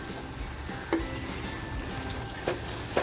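Chopped tomato fries in a pan for a homemade ravas fish masala, a soft continuous sizzle broken by a few light spatula scrapes and taps, with no voices.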